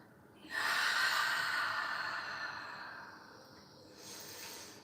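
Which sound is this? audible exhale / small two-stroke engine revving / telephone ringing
audible exhale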